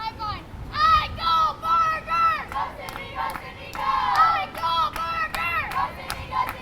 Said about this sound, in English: Cobra bench cheering her on as she tries to bunt